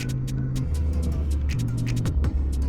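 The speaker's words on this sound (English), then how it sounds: "A bit of reverb exhaust pop." A Royal Enfield Super motorcycle rumbles with a deep, steady exhaust note that shifts pitch as it changes speed on a twisty highway, with a series of crackling exhaust pops and sharp ticks over the top.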